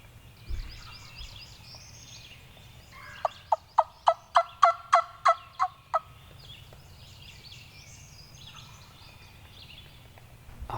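A wild turkey gobbler across a hollow near a lake lets out one rapid gobble of about ten sharp, evenly spaced pulses. The call carries from a distance, with quiet outdoor air before and after it.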